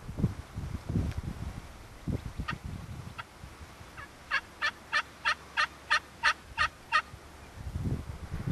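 Wild turkeys gobble in the distance during a hunt: a scattered few calls, then a run of about eight rapid, rhythmic gobbles over wind and rustling.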